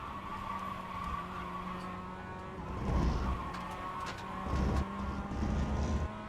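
A Ferrari 296 race car in a racing video game runs off track at Rudskogen, with a steady engine drone and bursts of rough gravel-like rumble and tire scrub as it leaves the circuit, fairly loud throughout.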